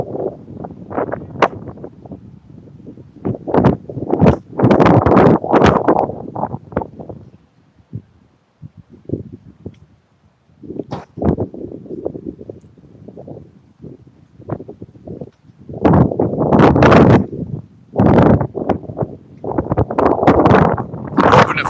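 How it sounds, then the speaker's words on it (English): Gusty wind buffets the microphone on a windy day beside the water while fishing, coming in loud broadband surges with quieter lulls between them. "it's windier today"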